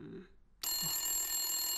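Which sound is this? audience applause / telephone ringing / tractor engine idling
telephone ringing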